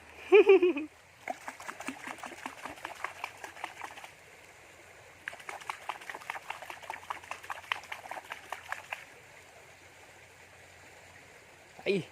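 A stream babbles during a catfish fishing trip using chicken-liver bait, heard as soft bubbling, clicking water in two long bursts with a quiet gap between, and a brief voice at the start and end.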